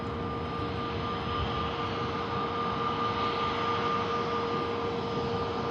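Steady, loud broadband roar of an aircraft engine at Manchester Airport, a continuous wash of jet noise with a faint whine running through it, no voices.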